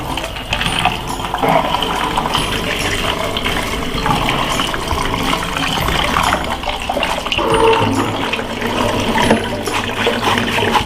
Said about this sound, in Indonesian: Bilas akar sampai sebersih mungkin.